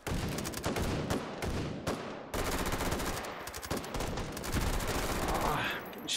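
Rapid bursts of automatic gunfire in the VR shooter Hot Dogs, Horseshoes & Hand Grenades, loud and near, firing in dense repeated volleys with brief gaps between strings of shots.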